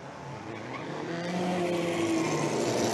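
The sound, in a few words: vintage racing cars racing on circuit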